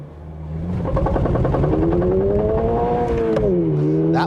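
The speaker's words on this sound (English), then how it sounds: "We'll see about just doing a light clutch dump." A 2024 Subaru BRZ tS launches with a light clutch dump, its engine note climbing steadily in pitch through a rising rev sweep, loud and close, with a brief dip near the end before revving on.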